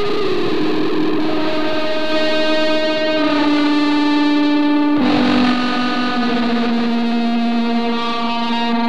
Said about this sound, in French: Avec ce délai analogique qui est juste un enfer sur Terre.